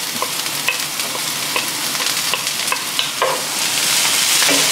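Garlic sizzles hard in a hot pan over high heat, with steady loud frying hiss and repeated stirring scrapes throughout, no voices.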